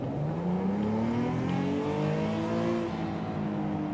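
A turbocharged quad-exhaust car in Forza Horizon 5 revving hard, its engine note climbing steadily in pitch with a smooth, continuous drone heard from inside the cabin.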